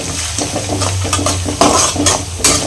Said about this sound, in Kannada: ನೋಡಿ ಕಡಲೆ ಬೀಜ ಎಲ್ಲ ಪರ್ಫೆಕ್ಟಾಗಿ ಫ್ರೈ ಆಗಿದೆ